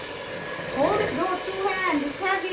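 An electric hand mixer whirs through muffin batter in a home kitchen, a steady buzzing drone whose pitch wavers as the beaters work, while people talk close by.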